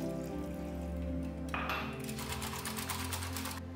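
Besan and curd being whisked together in a bowl for a curry mix, a soft rhythmic scraping and sloshing that picks up in the second half beneath steady background music.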